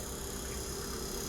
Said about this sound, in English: And that's the little hum you get from the fan and the whole thing running.